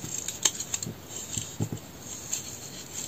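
Scissors snipping ribbon for a garland, a few soft close clicks and short cuts spread unevenly over a quiet background.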